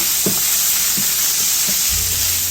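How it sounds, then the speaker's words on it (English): Onions softening in a pan for a Mediterranean-style tuna pasta make a constant broadband sizzle, with a few soft thumps and a low hum entering near the end. "You don't necessarily want to caramelize these onions. You want to render them down."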